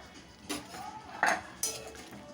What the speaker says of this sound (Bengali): ধনে পাতাটা দিয়ে হালকা নাড়াচাড়া করে